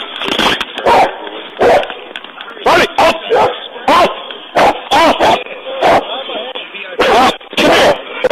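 A police dog barks repeatedly in short loud bursts during a tense confrontation, with an officer shouting commands between and over the barks.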